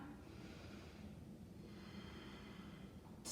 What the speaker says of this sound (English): I'm going to take 5 deep breaths